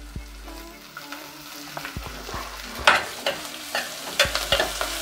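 Green chilies hit the oil with softened onions in a pan for a poori potato-and-peas masala, sizzling steadily while a spoon scrapes and stirs in irregular clacks, close and moderately loud with no talking.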